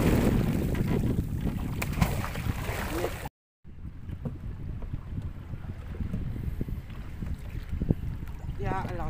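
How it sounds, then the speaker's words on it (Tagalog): Strong wind buffets the microphone in a steady roar while fishing from a boat, with water and boat noise underneath and a brief dropout partway through. "Lakas ng hangin guys."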